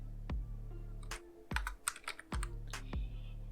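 Keystrokes on a computer keyboard as a word is typed: a handful of sharp, close clicks spaced irregularly over a few seconds, with a steady low hum underneath and no voices.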